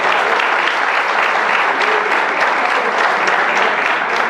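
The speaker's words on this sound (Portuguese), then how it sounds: "Palmas para quem participou aqui" An audience in a social pedagogy lecture hall applauds the participants, a dense, steady burst of many hands clapping close and loud for several seconds.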